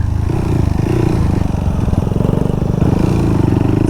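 A Honda Monkey motorbike with a port-and-polished head and five-speed transmission rides a soft dirt trail, its small engine droning loud and close with a steady, slightly rough running note throughout.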